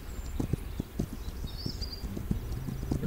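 Horse hooves clip-clopping in a video game ride, a steady rhythmic trot of hard, close hoof strikes with a brief faint whinny partway through.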